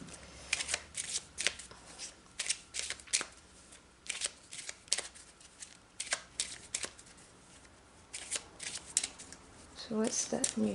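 A Lenormand card deck is shuffled by hand, producing close, sharp bursts of riffling and slapping card sounds in uneven groups, while a person talks over the shuffling.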